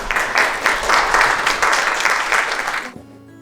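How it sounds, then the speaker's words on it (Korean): Warm applause from the audience at baseball player Choo Shin-soo's retirement press conference: a full, pulsing roar of clapping for about three seconds that stops abruptly, leaving near silence. "마지막으로 따뜻한 박수 전해주시면 진심으로 감사드리겠습니다."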